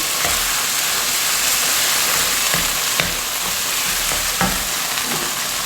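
Curry with chopped tomatoes sizzles and fries loudly in a hot pan while being stirred, a steady hiss punctuated by scrapes and knocks of the utensil against the pan.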